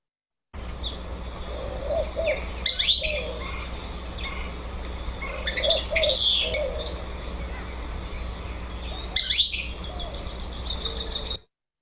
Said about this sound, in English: Here's an example of a common vocalization we hear from this pretty noisy species.